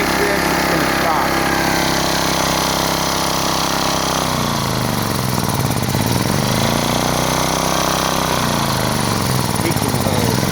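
Phoenix CDY2500L propane generator running with its hose kinked, a loud steady engine drone that wavers and shifts in pitch midway as the fuel supply is choked, heard up close with someone talking.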